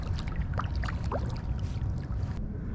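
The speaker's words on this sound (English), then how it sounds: "I'm gonna paddle a bit more and then start fishing" Paddle strokes through mangrove creek water from a small boat, with soft splashes and dribbles, near and continuous, over steady low background noise.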